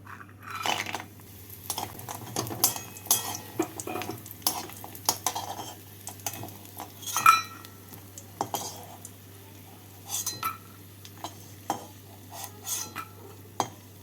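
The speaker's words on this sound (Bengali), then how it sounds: "কড়াইতে দিয়ে দিচ্ছি সর্ষের তেল তেলটাকে গরম করে নিয়ে এর মধ্যে ডালের বড়িগুলোকে ভেজে তুলে নেব" Lentil dumplings (bori) fry in hot mustard oil in a wok over a gas flame, giving a soft sizzle under repeated metal scraping and clinking of a spatula against the pan, with irregular louder bursts.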